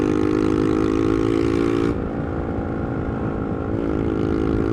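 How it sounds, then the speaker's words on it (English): Motorcycle engine held at a loud steady rev, then dropping off and settling to a lower drone before picking up slightly again, close and continuous with no voices. "If you've got a really loud bike, rev at them."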